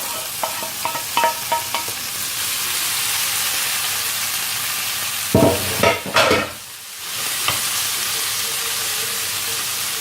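Minced meat and meatballs sizzling steadily in a pan for tacos, a continuous bright frying hiss with occasional clinks and stirring scrapes.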